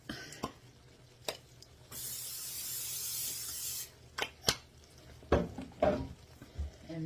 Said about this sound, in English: I'm going to spray this pan a little bit.